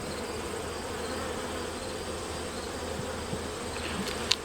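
Honey bees buzz steadily around a nuc hive outdoors, a dense continuous drone of many insects at close range with no voices.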